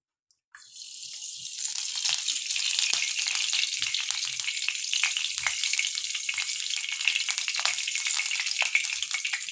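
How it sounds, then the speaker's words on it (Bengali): Cooking oil poured into a kadai (wok) to start ol chingri, a yam and prawn dish, gives a steady close hiss that begins abruptly and holds evenly for about nine seconds, with no talking. "দেখুন কড়া বসিয়ে দিয়েছি, এবার তেল দিয়ে দেবো।"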